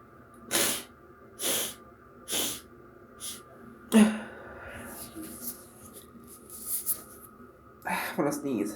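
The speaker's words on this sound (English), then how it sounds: "I'm gonna sneeze." Black pepper brings on a string of sharp, close sneezes: four strong bursts at irregular intervals, then a few smaller snorts and sniffs, with speech near the end.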